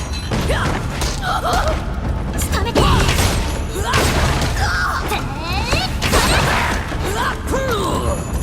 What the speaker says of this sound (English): The pathway, blocked with a stone wall, doesn't look like it would give way unless you bombed it.